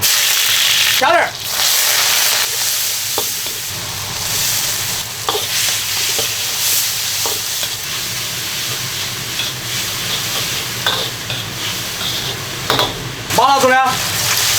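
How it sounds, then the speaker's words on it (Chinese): Ginger and garlic stir-fry in a wok with a loud hissing sizzle, broken by scraping stirs and a few brief clanks, with a fierce burst near the end. "姜蒜下锅"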